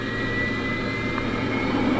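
A jet airliner engine in Microsoft Flight Simulator 2024 gives a steady, loud, continuous roar with a constant whine, unbroken and alone.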